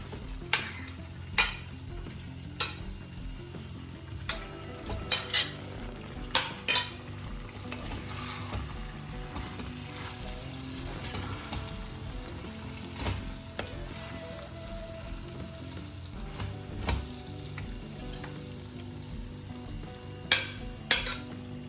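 Chicken pieces sizzle and fry in a pan for chicken varuval, a constant crackle broken by repeated sharp scrapes and clanks of a spoon stirring against the metal.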